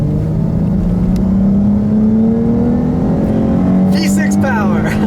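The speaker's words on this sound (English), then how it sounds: "I'll leave you guys with a nice little acceleration here," A V6 car accelerates from inside the cabin, its engine drone climbing steadily in pitch through the gears, loud and continuous throughout.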